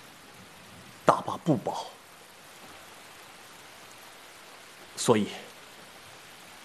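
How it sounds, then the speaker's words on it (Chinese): Steady rain hisses softly and evenly in the background of a period drama scene, with two short bursts of speech breaking over it. "这五六天以来，一直在下雨"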